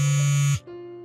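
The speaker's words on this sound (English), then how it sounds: "please pick up the phone" A loud electronic buzz from a phone signalling an incoming call holds for about half a second, then cuts off and shifts into a softer, higher steady tone.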